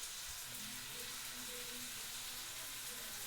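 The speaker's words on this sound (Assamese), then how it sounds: "মছলা পানীখিনি যেতিয়ালৈকে নুশুকায় তেতিয়ালৈকে মই মাংসখিনি ধুনীয়াকৈ ভাজি থাকিম" Broiler chicken meat frying in masala, a soft continuous sizzle with faint bubbling and occasional stirring, quiet and close, with no talking.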